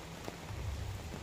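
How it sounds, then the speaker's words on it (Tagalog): Heavy rain drumming on surfaces outdoors and growing stronger, a dense, steady patter at close range with no talking. "lumalakas ang ulan"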